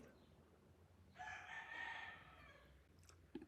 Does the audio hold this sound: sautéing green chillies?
no